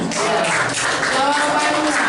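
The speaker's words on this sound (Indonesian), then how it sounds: "Bagus sekali, tepuk tangan." Classroom applause from students at an Islamic junior secondary school in Gorontalo, a brief burst of scattered, fairly close hand clapping that lasts about two seconds with a light murmur of voices.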